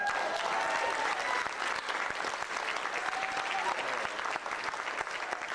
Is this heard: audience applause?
yes